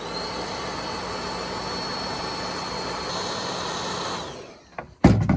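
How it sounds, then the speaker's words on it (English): A heat gun warms plastic rain shield clips for a camper van's motion windows, giving a steady, loud blowing roar for about four seconds before it cuts off, followed by a couple of sharp knocks. "So what I have to do is warm these up with the heat gun."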